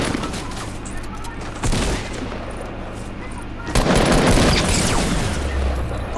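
Video game gunfire in Fortnite: dense rapid shots crackle continuously with heavier bursts, loud and steady with no speech.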